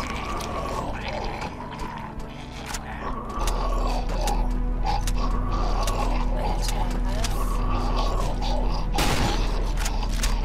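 A weapon is reloaded in the horror video game Cry of Fear, with a run of mechanical clicks and ratcheting clacks over a low, steady game hum.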